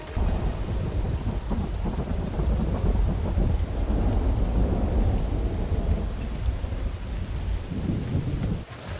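Video game rain on a survival server: a steady, dense downpour with a deep rumbling thunder roll underneath, continuous and fairly loud throughout, no talk.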